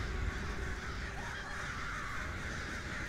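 Crows cawing in The Elder Scrolls Online after being summoned by the witch's whistle, a steady dense game soundscape lasting a few seconds.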